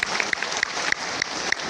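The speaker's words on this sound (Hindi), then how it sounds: "जोरदार ताली बजाइए गुमान गुरुजी के लिए।" An audience at a business presentation bursts into brisk applause, dense close clapping that fills the short moment, with a voice briefly audible at the end.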